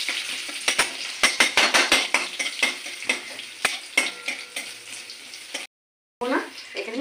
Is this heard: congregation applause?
no